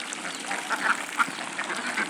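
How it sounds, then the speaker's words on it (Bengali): Domestic ducks quacking as they eat their feed, a few soft, close quacks scattered over a faint, steady background. "আপনারা দেখতে পাচ্ছেন যে হাঁসের খাবার কত সুন্দরভাবে খাচ্ছে"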